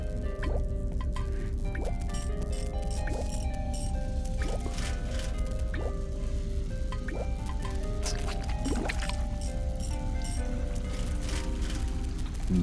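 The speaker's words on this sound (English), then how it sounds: "With the obstruction removed, I could hear water flow through the pipes to another part of the building." Water trickling and dripping through pipes inside a building in the adventure game The Little Acre, a steady wet gurgle with repeated drip-like plinks spread across the clip, close and even in level.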